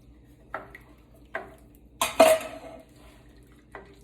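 A 14.5-ounce can of fire roasted tomatoes goes into a cooking pot for a chicken sausage, shrimp and farro jambalaya: a few sharp metallic clinks, then a wet scraping slide and plop, with nobody talking.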